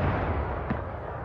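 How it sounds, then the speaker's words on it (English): Fireworks shoot off in the Dragon Age: Inquisition video game, a single muffled pop bursting out of a dense, continuous low roar. "they shoot more than one firework at a time"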